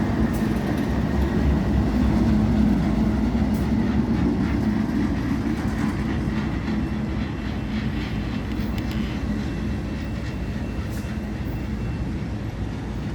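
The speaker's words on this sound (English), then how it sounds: "but the end soon came into view with the BNSF General Electric AC4400CW." A BNSF freight train led by a General Electric AC4400CW locomotive rolls past, a steady loud rumble of wheels and cars sustained the whole time with faint rail clatter, no voices.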